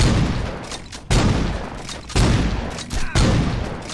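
Gunfire in the video game Saints Row 2 comes in four loud, sharp bursts spaced about a second apart, each decaying into a rumbling tail.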